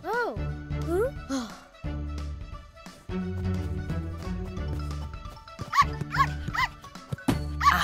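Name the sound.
cartoon puppy barking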